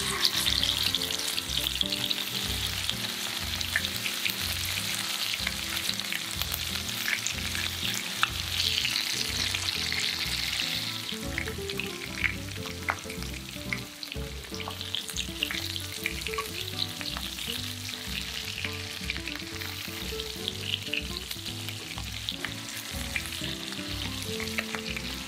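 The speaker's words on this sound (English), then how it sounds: "Fry the basil until it becomes brown." Basil frying in cooking oil in a pan gives a steady, close sizzle that runs unbroken throughout, with light stirring clatter mixed in and no voices.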